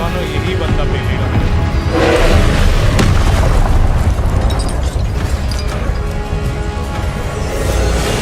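Spell combat in the Hogwarts Legacy video game, with the Expelliarmus disarming charm among loud booms and bursts over a dense wash of game effects and music.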